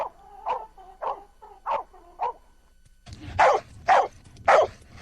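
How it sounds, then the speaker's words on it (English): A dog barks repeatedly, first in evenly spaced moderate barks, then in three louder, harsher barks that sound closer. "The guard dog looks and sounds threatening"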